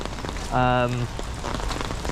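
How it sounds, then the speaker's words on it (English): Heavy rain patters densely on an umbrella in a Japanese garden, a steady close hiss of drops broken by a short burst of talking. "The rain's really picking up now."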